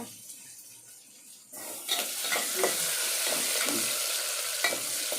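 Red onions hit a hot pan for Nellore-style populsu: near silence at first, then a sudden loud, continuous sizzle with scraping stir strokes throughout.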